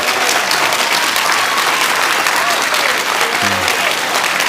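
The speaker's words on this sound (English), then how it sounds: "Wayne, let's give him a round of applause" A crowd at a Vacation Bible School opening assembly gives a loud, sustained round of applause, dense clapping from many hands filling the room the whole time.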